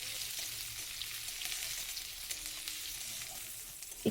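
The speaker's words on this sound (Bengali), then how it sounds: "রসুন আর পেঁয়াজটা দিয়ে দিলাম। দিয়ে একটু নাড়াচাড়া করে নেব," Garlic and onion fry in a pan with a steady, fairly soft hiss of sizzling oil, a few faint stirring scrapes, and a small clatter right at the end.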